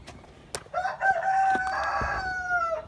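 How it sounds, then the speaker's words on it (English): A rooster crows once, a loud drawn-out call close by in a backyard flock of mostly Wyandotte hens, with a few faint clucks and knocks around it. "Mr. Rooster wants to say good morning."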